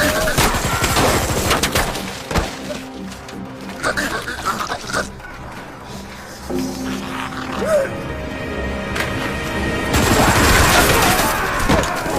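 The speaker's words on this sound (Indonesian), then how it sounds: "Adegan tembak-tembakan juga tak terhindarkan di markas ini." Bursts of gunfire crackle in rapid volleys amid shouting voices and clattering, a busy, loud shootout with dense rattling shots and scattered impacts.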